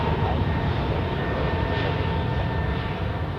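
A jet airliner taxis at Zurich Airport, its engines a steady, loud rumbling drone that holds even throughout, with a faint voice beneath.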